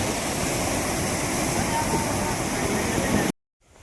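Strong flowing water at Sasan, Junagadh, roars as a loud, steady rushing wash, like a waterfall or fast stream close by, continuous before cutting off abruptly near the end.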